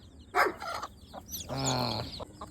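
A hen clucks close by in short bursts, with one longer drawn-out call, while faint chick peeps sound around it.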